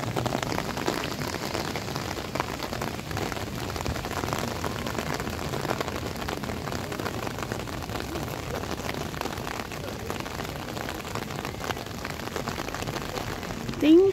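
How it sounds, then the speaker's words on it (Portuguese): Rain falls steadily outdoors near a bus stop in Italy, a continuous close patter on surfaces lasting the whole stretch, with a brief louder knock at the very end. "Do lado de lá tá chovendo bastante. Então eu não acho que vai parar a chuva, não."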